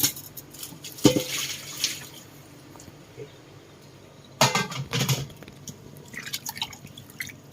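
Water from blanched vegetables for Thai pad see ew being poured away, heard as close splashes and trickles with a couple of louder gushes and scattered drips between them.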